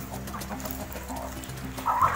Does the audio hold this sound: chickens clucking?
yes